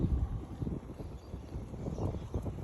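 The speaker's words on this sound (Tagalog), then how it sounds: "malakas yung hangin" Strong wind buffets the microphone aboard a boat, producing low, gusty rumbling and flapping bursts that are uneven but constant, with no speech.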